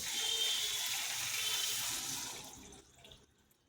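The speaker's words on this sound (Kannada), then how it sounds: "ಇದರಲ್ಲಿ 2 ಚೊಂಬು ನೀರು ಹಾಕ್ಬೇಕಂತೆ" Water pours in a steady gush into a pot, close and fairly quiet, then tapers off and stops after a few seconds.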